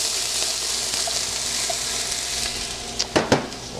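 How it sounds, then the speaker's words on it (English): Onion sizzles in canola oil in a pan, a steady close hiss of frying, with a few sharp clicks or knocks of a utensil near the end. "we'll saute up our peppers and garlic and our ground turkey"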